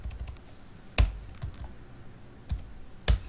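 Computer keyboard keys clicking sparsely while code is edited in the Visual Basic editor for an Excel macro, a few sharp isolated taps spread apart, close and fairly clear over quiet room hiss.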